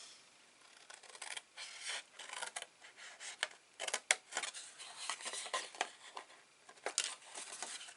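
Scissors cut up small paper squares for a handmade Christmas countdown advent calendar, a run of close, quiet snips and rustling crisp paper with light scraping, irregular and steady.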